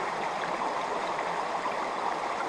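A burn in Scotland flows near a waterfall as a steady, even rush of water that stays constant throughout, with no voices.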